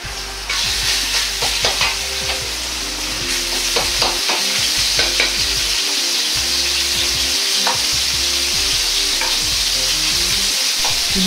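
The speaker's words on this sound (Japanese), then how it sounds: "鍋に大さじ1の油を入れひき肉を炒めます。" Ground pork sizzles in hot oil in a pot over high heat, a steady loud frying crackle with stirring scrapes and clinks throughout, no voices.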